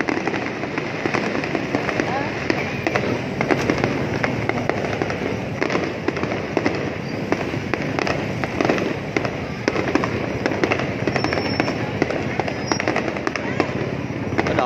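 New Year fireworks burst about 50 metres high at a crowded Lunar New Year celebration in Long Thanh, Dong Nai, with a continuous dense crackle and popping heard alongside talk from people nearby.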